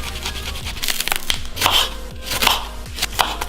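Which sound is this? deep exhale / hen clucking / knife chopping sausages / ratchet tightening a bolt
knife chopping sausages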